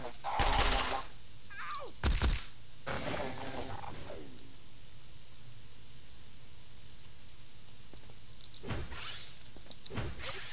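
Gunfire from a Marine character in the video game The Pit comes in sharp, loud bursts: two close together early, then two more near the end. A low mechanical hum fills the quieter stretch between them.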